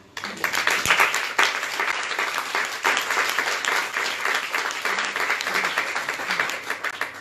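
Audience applause after a round-table talk, a steady burst of many hands clapping that continues strongly throughout, fairly close and dense with no pauses.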